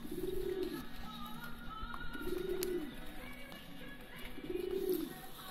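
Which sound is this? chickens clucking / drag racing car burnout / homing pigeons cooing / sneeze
homing pigeons cooing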